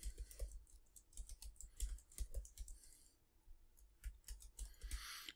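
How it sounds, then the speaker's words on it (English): Search words typed on a computer keyboard, a close, quiet run of rapid key clicks in uneven bursts with short pauses. "let's just type in a whole bunch of words like this together"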